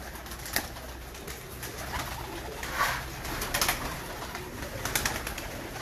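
Royal Teddy pigeons coo softly in a loft, several birds calling in overlapping bursts over steady background noise, no talking.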